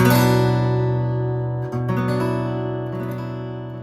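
A single guitar note is struck and left to ring, sustaining clearly and slowly fading, with a faint second pluck partway through.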